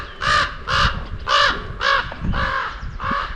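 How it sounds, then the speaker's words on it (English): A crow caws six times in a steady series of harsh, loud, close calls near a bridge over an old railway line, with no talking. "The crow agrees, it's a pretty bridge."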